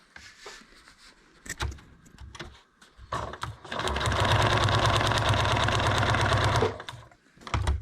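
A sewing machine runs in a steady fast burst for about three seconds while stitching a paper-pieced quilt block, with brief shorter runs and handling noises before and after, close and fairly loud.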